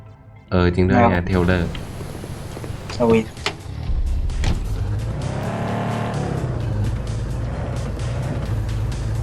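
A car engine in a video game set in 1980s America revs and accelerates, its rising whine running steadily under loud excited voices after an earlier squeal of tires.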